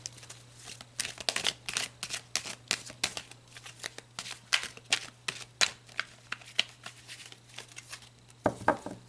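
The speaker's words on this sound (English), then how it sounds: "So let's pull some more cards" Tarot cards are shuffled and drawn, with close, quiet riffling flicks and soft slapping taps coming in irregular bursts against a low steady hum.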